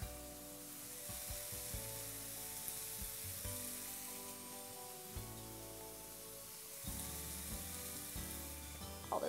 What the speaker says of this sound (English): And finally, you want to add in the onion and garlic.